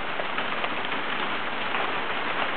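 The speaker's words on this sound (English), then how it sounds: "It's hail." Hail falling outdoors, a dense steady patter of small icy pellets striking surfaces nearby, even and unbroken with no voices.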